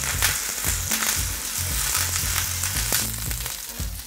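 Curry leaves frying in hot coconut oil in a pan, a loud, close, continuous sizzle with crackling pops throughout, and no voices.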